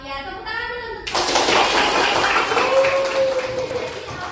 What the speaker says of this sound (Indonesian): Oh iya, tepuk tangan dulu untuk